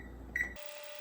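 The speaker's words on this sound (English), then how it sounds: "Now you push the timer" A single short electronic beep from an oven's timer button being pressed, close and clear, followed by quiet room tone.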